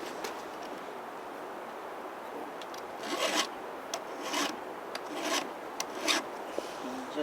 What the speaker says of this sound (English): if this thing is raker sticking up, which it is, I have to find my file here